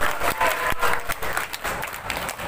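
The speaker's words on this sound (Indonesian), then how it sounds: "tepuk tangan untuk ketika pasangan calon" Students at a school debate for OSIS student council chair and vice-chair candidates applaud the candidate pair, a loud continuous wash of clapping filling the short stretch without pause.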